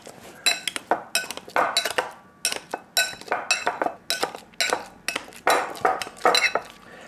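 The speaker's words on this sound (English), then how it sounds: "So the avocado here, I think one of the best way is to just crush it with this." Avocado, close to a pound, being crushed for guacamole with a utensil against a bowl, a series of sharp, close clinks and scrapes in an uneven rhythm, with no talk.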